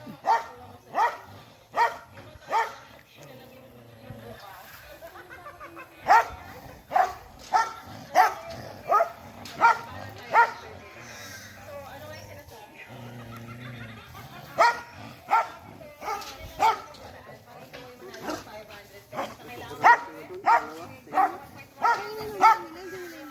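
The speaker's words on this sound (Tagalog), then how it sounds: "Galit na galit yung aso." A dog barks repeatedly in sharp, aggressive bursts on a coconut farm in Aurora, sometimes in quick clusters, with pauses and some quiet background talk between.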